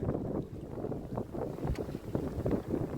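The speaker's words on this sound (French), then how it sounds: "25 nœuds de vent." Strong wind of about 25 knots roars across a sailboat under genoa alone entering an outer harbour, a steady close rush of wind noise and water with gusty swells and no talk.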